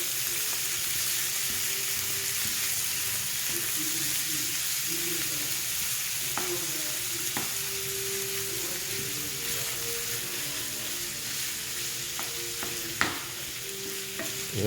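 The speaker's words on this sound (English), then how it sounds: "Take a wooden spatula or whatever kind of spatula you have, and start breaking it up." Ground beef for Texas chili browning in a pan and broken up with a wooden spatula: continuous close sizzling with repeated scraping and clacking strokes, plus a sharper knock near the end.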